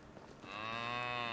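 A cow in the video game Medieval Dynasty lets out a single loud, sustained moo with a steady tone that swells in after a short muffled lead-in and holds to the end, with no talk over it.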